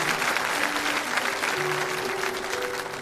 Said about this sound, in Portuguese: Pode aplaudir essa palavra,